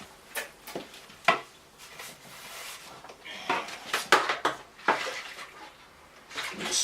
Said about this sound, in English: Let's give it a rinse.